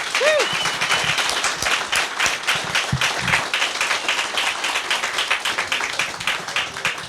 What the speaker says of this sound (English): Please give Tim a big round of applause